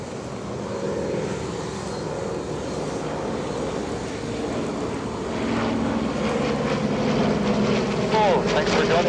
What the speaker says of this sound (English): Flying Bulls DC-6.